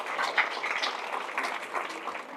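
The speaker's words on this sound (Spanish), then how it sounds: "Fuertes aplausos a nuestro Dios." A church congregation claps in steady, dense applause that stays loud and even throughout, with no voices standing out.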